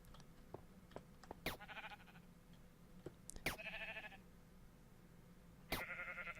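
Sheep in a video game bleat in three short, separate calls, each a clear wavering baa over a quiet, faintly clicking game background, with no speech.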